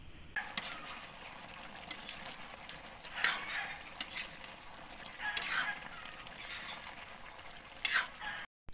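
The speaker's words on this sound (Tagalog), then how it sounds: "Paminsan-minsan ay ating hahaluin mga kagala upang hindi manikit sa kawali." Spoon stirring kagala (field crabs) in a covered wok, a steady frying sizzle underneath with a few louder scraping strokes against the pan, close and moderate in level.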